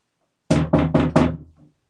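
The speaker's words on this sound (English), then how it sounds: "I definitely heard a knock." Four sharp knocks in quick succession sound in a room during a live ghost hunt, loud and close, followed by a faint fifth tap, with no voices.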